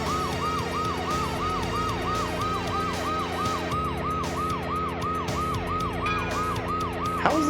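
A wailing police car siren from the video game Blast Corps cycles up and down in steady regular sweeps over a continuous engine and game-music backdrop, close and prominent for the whole stretch.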